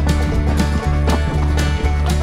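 Horses' hooves clop in a steady walking rhythm on a hard mountain trail in the Sawtooth Mountains, close and distinct, with no voices.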